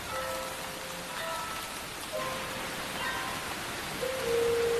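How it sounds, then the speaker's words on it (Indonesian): Heavy rain pours steadily and loudly onto surfaces, a dense unbroken hiss with no voices, a few faint tonal sounds drifting in the background. "Dalam kondisi hujan ngegebret"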